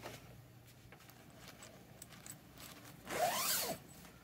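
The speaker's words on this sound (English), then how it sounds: "So the zipper" A zipper on a camping hammock's bug net is pulled in one quick, close pass of under a second, rising out of a quiet background.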